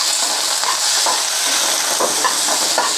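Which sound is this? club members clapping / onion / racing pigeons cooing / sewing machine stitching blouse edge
onion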